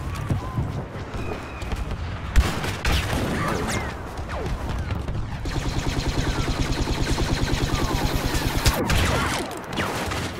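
Orbital strike in a Star Wars Battlefront beta match: several heavy booms land in sequence, followed by a rapid, regular mechanical pounding that builds and then cuts off, with scattered battlefield noise underneath.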